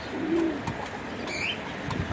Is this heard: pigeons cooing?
yes